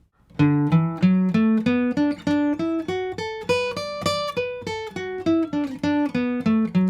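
An electric or acoustic guitar plays a pentatonic scale exercise, a steady run of single plucked notes climbing then descending in an even rhythm, clear and close, with no talking.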